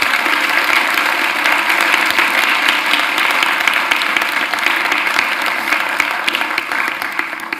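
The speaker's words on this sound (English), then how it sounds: "let's have a warm round of applause for Gina Miller" An audience at a panel discussion on disagreeing well online gives sustained, loud applause to welcome Gina Miller, a dense even roar of clapping throughout with no speech.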